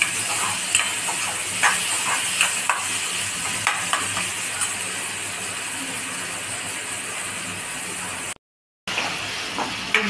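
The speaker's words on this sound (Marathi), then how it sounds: "एक 2 मिनटं चांगलं असं परतून घ्यायला।" Red chilli powder, salt and spices being stir-fried in a pan for matki bhaji give a steady hissing sizzle with light stirring clicks, then a brief silent gap near the end.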